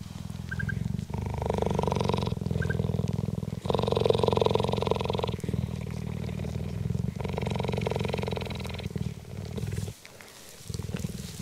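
A cheetah cub purrs close up in a steady, rhythmic rumble, with each cycle of breathing in and out giving regular pulses of loud purring, a few short faint chirps over it, and a short pause near the end.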